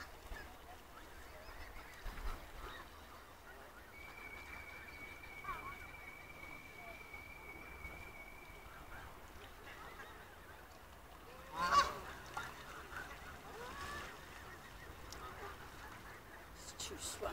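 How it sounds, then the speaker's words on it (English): Geese honk and waterfowl call faintly across a reservoir in Nottingham where swans, geese and ducks gather, with scattered calls under quiet outdoor background and people talking nearby. "These are reservoir swans over there, headed this way."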